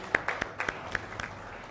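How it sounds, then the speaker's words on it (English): Sparse, scattered hand claps from a small audience honoring an award winner for the most impactful contribution, a handful of separate claps over under two seconds. "A big round of applause for the winner,"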